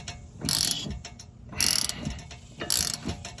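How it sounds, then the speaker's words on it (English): Ball joint press being cranked down on an air suspension, giving three bursts of close, loud ratcheting and metallic clicking with brief pauses between them. "got this little ball joint press and we're gonna start cranking down on her"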